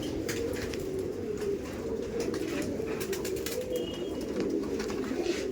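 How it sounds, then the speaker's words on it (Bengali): Madrasi pigeons, a female and a male, coo steadily in low, throaty rolling phrases, close by, with faint scattered clicks and rustles in the background. "এটা হচ্ছে ফিমেল পায়রা আর এটা হচ্ছে মেল পায়রা।"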